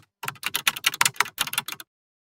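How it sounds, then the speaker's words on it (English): Quick run of crisp keystrokes on a computer keyboard, about a dozen close, sharp clicks in an uneven rhythm, heard alone in a quiet room before stopping into silence. "The main section is the alphanumeric keyboard, where we type letters and numbers."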